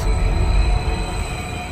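A train rumbles along in the video game Wuthering Waves, a steady, loud, continuous low roar with no voices over it.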